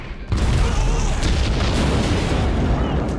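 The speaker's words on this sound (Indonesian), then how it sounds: "tiba-tiba Aisyah datang dan meledakkan sisi lain dari pelabuhan" A harbor explosion in an action film, opening with a sudden heavy boom and followed by a sustained loud roar of blast and debris that fills the clip.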